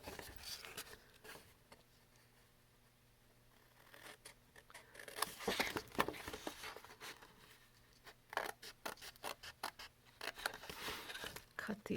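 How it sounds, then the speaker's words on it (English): Card stock being cut by hand along score lines to make a box card, with soft intermittent snips and scrapes, quiet at first and then busier, more frequent cutting sounds in bursts, with a person talking over much of it. "You're going to cut out on all these score lines."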